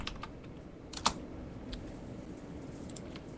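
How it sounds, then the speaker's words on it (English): Someone types on a computer keyboard, a run of quick, light clicks with one sharper keystroke, close and moderately loud, over faint room noise. "if you hear me typing, I went to dictionary.com"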